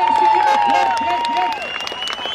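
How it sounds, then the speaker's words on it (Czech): Audience applause and cheering at the Zlín Region Firefighters' Day at the Kroměříž exhibition grounds, a steady loud clapping crowd, with a voice speaking through it and a fading tone. "Pojďme prosím jim dát na úvod takovej zkušební co největší aplaus."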